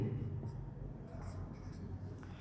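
A pen scratches across paper in quick, repeated strokes, close and quiet, while a teacher talks through a maths problem.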